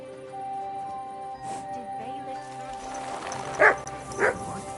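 A dog in the medieval video game Kingdom Come: Deliverance 2 gives two short, sharp barks near the end, over a quiet bed of game ambience and music.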